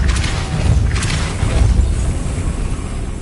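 Depulso force spell cast in the game Hogwarts Legacy, a loud low boom with rushing whooshes that rumbles steadily throughout.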